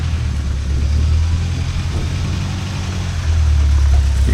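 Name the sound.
rock crawler engine working in low gear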